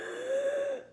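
A flute teacher demonstrates a faulty inhale, a single thin high-pitched wheezing draw of breath about a second long, close and fairly quiet, with no speech.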